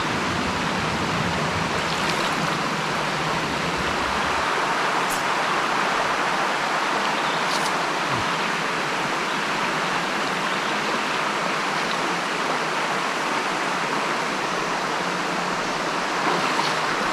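Shallow trout stream rushing steadily over stones, a continuous broad wash of flowing water close by with no talking.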